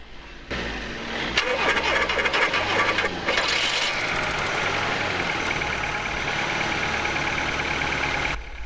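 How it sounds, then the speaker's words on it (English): A VW Golf Mk2 engine cranks and catches after years of sitting, jump-started from a help vehicle, then settles into a steady, fairly loud idle that continues to the end. "So now we can go ahead and try to start it with a help vehicle."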